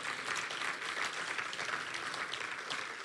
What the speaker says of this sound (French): applaudissez un bon coup, franchement